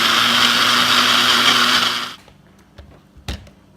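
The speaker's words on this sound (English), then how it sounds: "As you can see now, everything's busted up. It's all blended fine and well." Countertop blender whirring loudly and steadily as it purees a seasoned mixture with salt, garlic powder and black pepper for whipped potatoes, then cutting off abruptly, followed by a few faint knocks and a brief clatter in the quiet.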